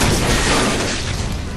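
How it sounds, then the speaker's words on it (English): Anti-tank rifle fire in a fan-made anime dub of Hellsing Ultimate: a loud, dense blast with a sustained rumbling roar that fills the whole moment and tails off slightly at the end, no voices. "Oh, fuck, that's an anti-tank rifle!"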